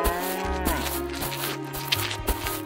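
A cow moos close by in a long, steady, tonal call that carries alone with no talk over it.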